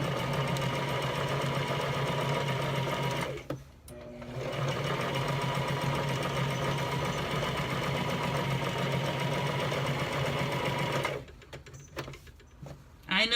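A domestic sewing machine runs steadily, stitching fabric for quilting, its whirring motor nearly continuous apart from two brief pauses where the needle stops and the fabric is pivoted.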